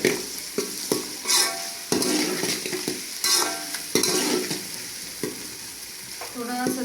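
Ginger garlic paste sizzles in a pan with browned onions for a dal mash dish, with a spoon scraping and stirring in repeated strokes over the steady hiss of hot oil, close and moderately loud without talk.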